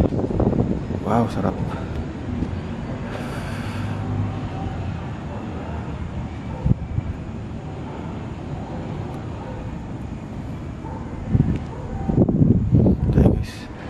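Wind rushes steadily across a hospital rooftop at night, a constant broad roar buffeting the microphone, with occasional short remarks from people nearby.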